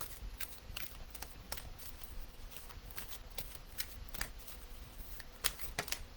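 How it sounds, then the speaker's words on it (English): Oracle cards being shuffled and pulled from the deck during a live card reading, heard as a run of soft, quick papery riffles and flicks close by, with no talking. "Let's pull a card for Bronwyn"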